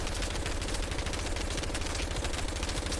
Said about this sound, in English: I'm going to show you here what the hip fire is like, as well as the ADS recoil patterns with the gun.